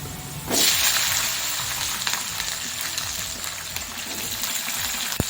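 Green chillies go into chickpea dal already frying in a pan for a radish chutney, setting off a loud sudden sizzle that keeps crackling steadily up close, with faint stirring and no talk.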